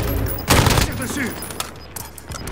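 Rapid automatic gunfire bursts out in Call of Duty Modern Warfare, loud and close, then trails into scattered shots, with game voice lines talking over it.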